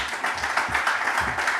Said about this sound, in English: Applause for Safaricom's Chief Corporate Affairs Officer, Mr. Stephen Kiptines.